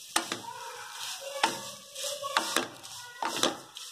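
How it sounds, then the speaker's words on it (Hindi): Vermicelli roasting in ghee in a pan, heard as a series of sharp scraping stirs and clicks against the metal with soft sizzle between them, close and fairly quiet, no talking. "एक साइड पे हम सेवैया सेक रहे हैं।"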